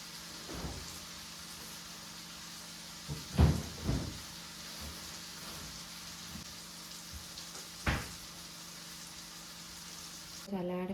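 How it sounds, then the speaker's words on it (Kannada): Onions frying for chitranna, a lemon rice dish: a soft, steady sizzle broken by a few sharp clatters and knocks of utensils, fairly faint overall. "ಚಿತ್ರಾನ್ನ ಫ್ರೈ ಆಗಬೇಕು"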